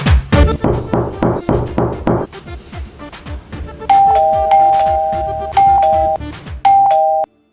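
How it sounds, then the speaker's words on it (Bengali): An electronic doorbell is pressed again and again, loud two-tone chimes arriving in quick bursts after a run of heavy rhythmic thumps at the start. "কে রে এত জোরে জোরে কলিং বেল টিপছে?"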